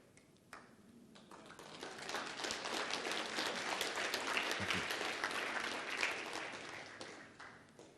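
Audience applause at a musical healing celebration, faint at first, then swelling into sustained clapping from a crowd before tapering off near the end.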